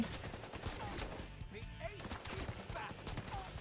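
Gunfire in a shooting video game comes as quick, dense bursts of shots at moderate loudness, running under occasional talk.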